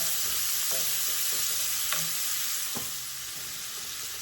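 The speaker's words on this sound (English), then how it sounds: "We're going to saute this until it's soft" Onion sauteing in a hot pan for a cowboy spaghetti dish, with a steady broadband sizzle and a few soft stirring scrapes and clinks throughout.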